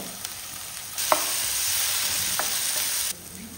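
Onion and tomato frying in a pan for a spiced mackerel masala, with a steady loud sizzle across most of the clip and a few brief scraping stirs.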